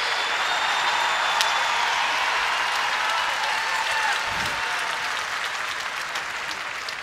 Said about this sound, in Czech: Pojďme, ještě tleskáme, ano, ještě.